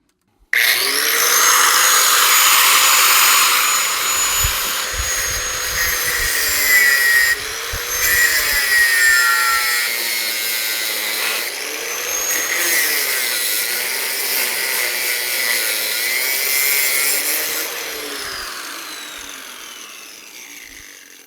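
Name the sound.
cutting a radiator hose fitting during car fabrication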